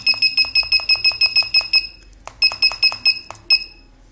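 A Robota security system alarm sounds in loud, rapid repeating electronic beep pulses, a steady burst of about ten beeps followed by a short pause and then a second run of beeps, with no voices.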